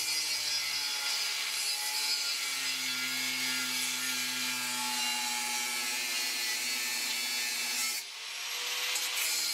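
Continuous rasping saw strokes cut through a piece of a fire extinguisher, steady and close for about eight seconds before a brief pause and a final scrape; no talking.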